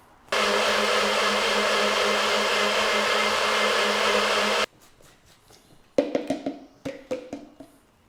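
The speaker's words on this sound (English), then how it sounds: "then it's back to the blender, and we're going to puree that ready for the chicken" A blender purees a jerk chicken marinade, whirring loudly and steadily for about four seconds, then stops, followed by some clattering and knocking of utensils.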